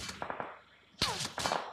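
Gunfire in the mobile battle-royale game BGMI (PUBG) sounds first as several quick, fairly faint shots, then as two louder sharp bursts close by, with brief ringing tails between them.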